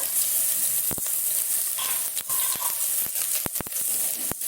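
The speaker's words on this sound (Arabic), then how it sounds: "نشوح كل دوت مع بعض" Onion, small tomato, bay leaves and cardamom sautéing in a pot for tripe, a continuous close sizzle broken by sharp spoon scrapes and taps as the mixture is stirred.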